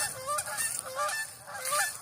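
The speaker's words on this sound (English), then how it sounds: "Oh my gosh, geese." Several geese honk loudly and nearby in a creek-side outdoor setting, their calls coming in overlapping bursts across two seconds with no talk.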